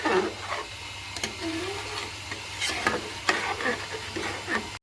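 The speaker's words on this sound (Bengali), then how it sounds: "এবার একটু ভালো করে ঘেঁটে আর ঢেকে রেখে দেবো।" A spoon stirs khichuri with ghee and garam masala in a pot, giving repeated scraping and knocking strokes over a soft sizzle, close and moderately loud.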